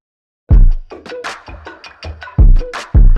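Speech-like bursts run through a McDSP Futzbox plugin, sounding narrow and lo-fi with clipped, boomy low thumps, loud and up close with no clean voice alongside.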